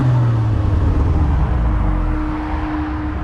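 A car ahead revs its engine while drifting on a wet track in Korea, a loud continuous low engine roar with a rising pitch at the start and a steady whine, heard close from a following car.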